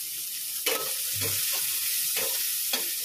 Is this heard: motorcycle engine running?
no